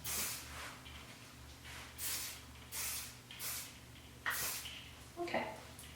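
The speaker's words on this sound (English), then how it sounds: "I cover my ear because no one likes that feeling of hairspray in their ear" Several short hissing bursts of hairspray aimed at curled hair, spaced roughly every second, close and fairly loud over a steady low background hum.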